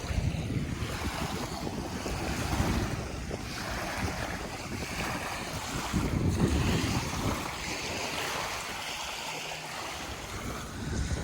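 Waves lapping on the shore of Lake Murray, a steady close wash of water mixed with wind buffeting the microphone, rising in gentle surges with no voices.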